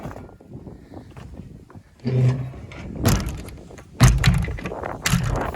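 Cab door of a Massey Ferguson 1085 tractor shut with a couple of solid thunks and rattling bangs, close and fairly loud, after a quieter stretch of faint clatter.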